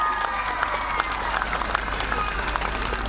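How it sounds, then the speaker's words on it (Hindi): A crowd at a BJP political rally in Shillong, Meghalaya, breaks into sustained applause, dense clapping that holds steady for the whole stretch with a faint voice beneath. "उसका लिए ताली बजाओ।"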